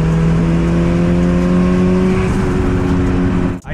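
Engine of a boosted (forced-induction) Honda CRX under load in fifth gear, a loud steady drone with a sustained whine, heard from inside the car before a brief dip as the throttle lifts.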